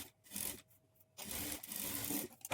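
A sewing machine stitches a blouse, running quietly in short bursts separated by brief pauses.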